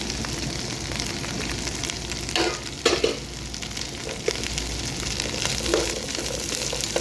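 Cut okra frying in about two tablespoons of cooking oil in a pan gives a loud, dense, continuous sizzle up close, with occasional clatter and scraping from stirring.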